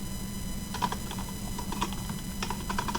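Keys on a computer keyboard clack in quick irregular bursts of a few strokes each, close and fairly soft, with a low steady hum underneath and no talking.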